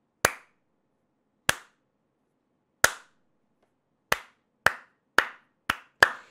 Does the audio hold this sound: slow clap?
yes